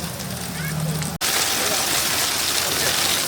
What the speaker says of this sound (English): it's now hailing.